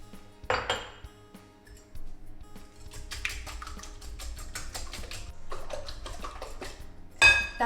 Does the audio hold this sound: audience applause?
no